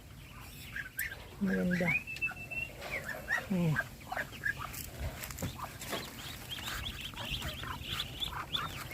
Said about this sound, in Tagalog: At dito naman po yan ay bibe, ano?